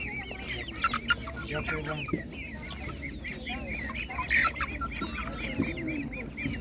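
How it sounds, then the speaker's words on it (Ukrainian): Several chickens cluck and a rooster calls close by at an animal market, with busy background chatter and scattered noise around the flock. "Цікаві такі півники."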